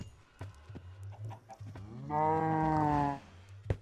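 A cow in the Minecraft VR video game gives a long, drawn-out moo, close and clear, with short clucks and small game noises scattered before it.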